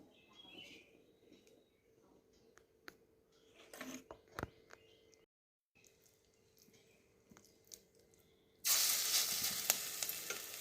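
Quiet kitchen clatter and stirring, then a sudden loud, steady sizzle as bitter onion batter hits hot oil in a wok and fritters begin frying.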